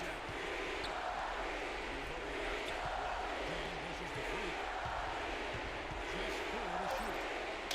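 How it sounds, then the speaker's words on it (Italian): A dense, steady crowd roar fills the whole stretch, loud and continuous, like arena fans cheering with a faint announcer-like murmur underneath, from the basketball video game NBA 2K16 during a playoff conference final. "Sentite che roba i tifosi."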